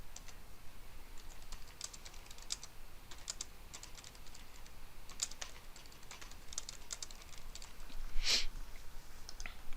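Quiet, steady keystrokes on a computer keyboard as a note is typed, scattered soft clicks across the whole stretch with one sharper, louder tap near the end, no talking.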